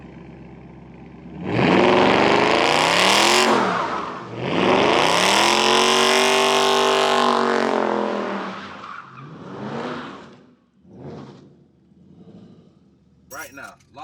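A car at a meet revs hard with wheels spinning in a drift, two long loud engine roars rising and falling near the listener, then dropping to quieter revs and brief bursts toward the end.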